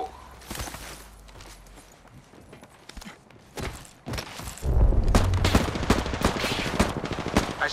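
Gunfire in Apex Legends: bursts of rapid automatic shots, sparse and quieter at first, then heavy sustained fire with impacts and thuds building loudly toward the end, with footsteps between volleys.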